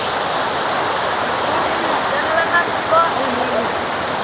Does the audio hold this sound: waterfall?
yes